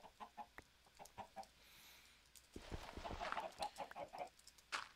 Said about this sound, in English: This is all my chickens trying to escape on me.